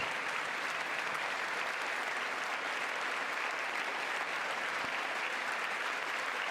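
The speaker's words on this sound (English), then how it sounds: "A lot of clapping." Sustained applause from a large audience at a State of the Union address, steady and even throughout with no voices standing out.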